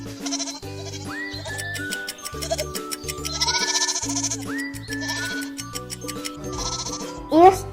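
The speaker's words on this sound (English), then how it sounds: "It's a goat." A goat bleats in several short, wavering calls in a rhythmic sequence, mixed with musical tones and voices, ending with a brief louder burst.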